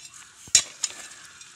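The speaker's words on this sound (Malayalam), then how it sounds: "നമുക്ക് ദാ ഈ വളം എല്ലാം നന്നായിട്ട് ഒന്ന് മിക്സ് ചെയ്തെടുക്കണം" Cow dung manure is stirred into potting mix for a pothos, giving a couple of short, gritty scraping rustles close by against a quiet background.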